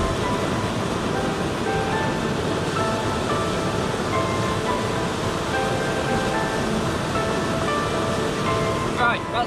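A cold mountain stream rushes in a continuous, dense wash of water noise, steady and fairly loud from start to finish, with no voices.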